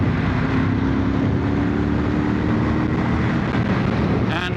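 A Ducati 916 motorcycle engine roars at high, sustained full revs close by, with steady wind rush over the microphone throughout.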